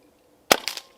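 A single sharp crack from a Barra 1100Z .22 PCP air rifle tuned to be quiet for backyard shooting, followed by a brief ring or pellet impact, close and short against near silence.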